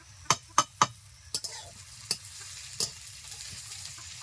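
Chopped ginger and garlic hitting frying onions in a pan, a low steady sizzle with a few sharp spoon taps at the start and scattered stirring scrapes afterward, close and fairly quiet.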